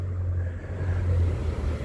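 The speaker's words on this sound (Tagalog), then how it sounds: "Panoorin natin itong mga sasakyan na dumaraan." Cars pass through the Steeles and Kennedy intersection in Toronto, a continuous low traffic rumble with engines droning nearby and no distinct individual passes.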